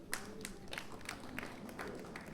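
An audience in a Melbourne comedy show hall claps in a steady patter of fairly faint, scattered hand claps lasting a couple of seconds, with light murmuring underneath.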